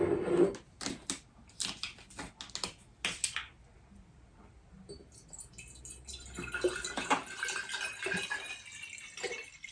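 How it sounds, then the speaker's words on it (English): Water is poured into a glass bottle while making ginger beer. There are clustered splashy bursts, a short pause, then a steadier run of gurgling pouring, fairly quiet with no talk. "I'm going to pour the water inside the glass bottle first"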